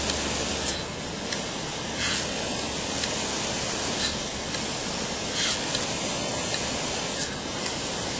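PGP sprinkler head spraying water outdoors, a steady, dense hiss that carries on unbroken, fairly loud and close, with faint rhythmic ticks, no voices.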